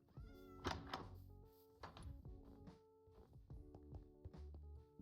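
A cat meows several times in the Minecraft video game, its tonal calls standing out above soft thunks and taps, with no talking.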